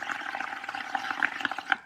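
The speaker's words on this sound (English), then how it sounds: "And you're going to blow some bubbles" Air blown through a straw into a cup of soapy water makes close, busy gurgling and popping bubbles in a brief, uneven run.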